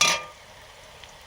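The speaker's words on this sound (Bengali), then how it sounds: "আমি আগে একটু কড়াতে নেড়ে নেব, তারপরে রান্না করব। শাক ভাজা হবে" Red amaranth greens are stirred and fried in a wok. A sharp scraping stir opens the sound, then it settles into a low, quiet sizzle with a faint clink near the end.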